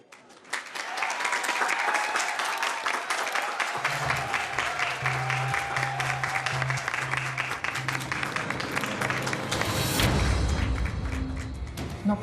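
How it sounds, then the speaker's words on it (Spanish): Loud, sustained audience applause fills the room for a newly welcomed sponsor, a dense wash of clapping that swells at the start and holds steady, with a low thumping rhythm joining beneath it partway through. "para quien pido un fuerte aplauso"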